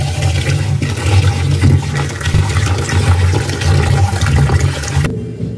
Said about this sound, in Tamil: எடுத்து இதை வந்து நல்லா கழுவி ஒரு 2-3 கழுவணும்